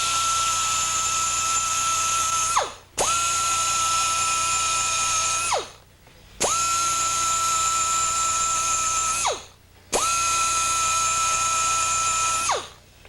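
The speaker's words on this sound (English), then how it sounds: "this grinder makes a lot of noise" A high-pitched pneumatic grinder whines in four steady, loud runs of about two to three seconds each, with brief pauses between, as it works on aluminum alloy Harley-Davidson cylinder heads for an exhaust flange repair.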